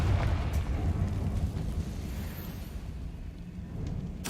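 A Confringo fire-blast spell explodes in a Harry Potter wizarding video game, a loud, rumbling burst whose heavy low roar decays slowly, with a sharper crack near the end.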